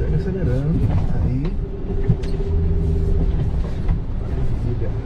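A 2020 Troller TX4 automatic off-road vehicle accelerates along a dirt track, its engine rumbling loudly and steadily beneath people talking inside the cabin.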